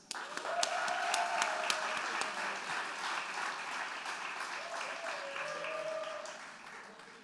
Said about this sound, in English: Someone's brought their own canned applause by the sound of it